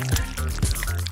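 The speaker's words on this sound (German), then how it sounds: "Ich gieße Sahne in den Krug." Cream poured into a jug in a home kitchen, a steady close liquid pour with slight gurgling and no talking.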